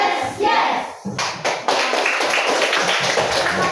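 A class of students claps in rhythmic bursts during a classroom clap chant, their hands loud and close, with children's voices chanting along.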